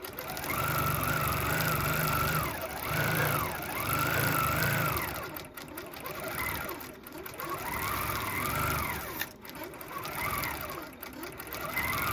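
A QuiltMotion 5 Pro computerized quilting machine runs an edge-to-edge pantograph right after a bobbin change, giving a loud, steady mechanical whir that swells and eases in repeating arcs as the stitching path sweeps back and forth, with no voices.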